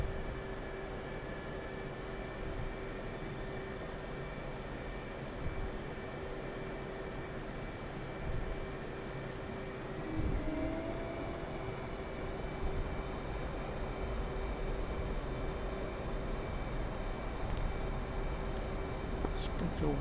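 A military jet in the DCS flight simulator taxis onto the runway with a steady, low engine whine and a constant tonal hum, moderately loud and unchanging throughout.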